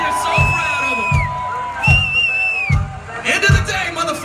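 A comedy show crowd cheers and whoops for two hecklers, with loud, close shouting, whistles and rhythmic claps over steady crowd noise.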